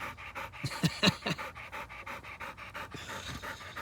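A dog pants close by in quick, rhythmic bursts of heavy breath, loud and alone, with the pace settling slightly toward the end.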